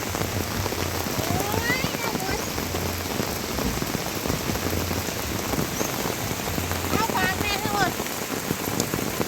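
Steady rain pours onto a surface at a rural home during a rainy spell, a dense, continuous hiss close by with a low rumble running underneath, and scattered bird calls chirp through it.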